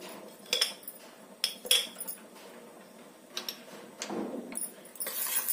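A spoon stirs powdered milk into a little water in a bowl, giving a series of light metallic clinks and taps against the bowl with a soft swirling between them, close and fairly quiet.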